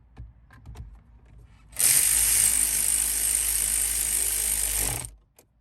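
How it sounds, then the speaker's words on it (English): A power screwdriver drives screws while a head unit is installed in a car. It runs as one loud, close, steady whine for about three seconds after a few faint handling clicks, then stops. "We're going to put these screws in."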